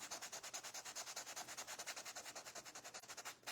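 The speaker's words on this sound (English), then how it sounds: "So I'm going to sand this down and restain it" Wood furniture being sanded down before restaining, a steady back-and-forth rasping with about ten even strokes per second, close and moderately quiet, with a brief knock at the end.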